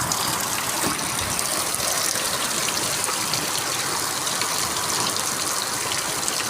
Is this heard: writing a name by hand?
no